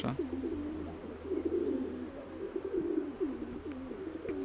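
Pigeons cooing continuously near at hand, several low, rolling coos overlapping in steady rhythm with a faint low hum beneath.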